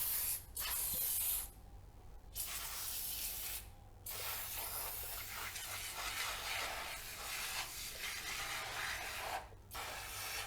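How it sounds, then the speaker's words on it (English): Foam radiator cleaner hisses from an aerosol can in long, loud, close bursts with brief pauses, sprayed onto the radiator of a BMW K1600 GTL motorcycle. "we're going to thoroughly saturate the radiator with this foam cleaner"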